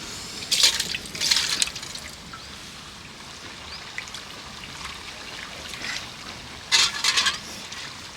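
Water splashes into a cooking pot of village-style chicken in two short bursts of pouring, with a quieter trickle between them, close by over a low background hum.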